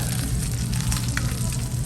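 Beef large intestine grilling at a Korean BBQ restaurant in Koreatown, Los Angeles, a steady close crackling sizzle of fat rendering on the grill with continuous busy hiss and no pauses.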